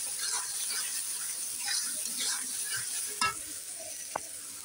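Chicken meat fries in a pan with a steady soft sizzle while a utensil stirs and scrapes, a couple of sharper knocks standing out near the end.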